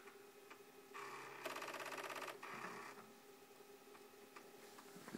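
Commodore 64 disk drive searching for a file, a mechanical whir and buzzing with rhythmic ticking and stepping clicks, steady and fairly close, with a louder burst of chattering in the middle and no talk.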